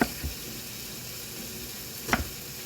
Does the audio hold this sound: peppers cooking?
yes